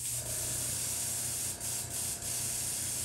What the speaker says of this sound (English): spray that out real quick.